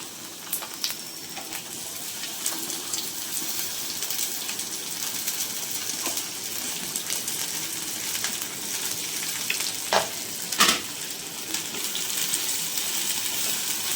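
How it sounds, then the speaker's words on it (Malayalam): Chopped okra sizzles as it hits hot oil with popping mustard seeds for an okra masala fry, a steady crackling fry with a few sharper spits and stirring scrapes, close and continuous with no talking. "ഇനി കടുക് പൊട്ടിയതിന് ശേഷം നമുക്ക് അരിഞ്ഞു വെച്ചിരിക്കുന്ന വെണ്ടയ്ക്ക അതിലേക്ക് ചേർക്കാം"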